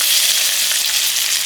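Potatoes sizzle in hot fat in a pan for Southern fried taters, giving a loud, steady, dense hiss with no gaps and no talking over it.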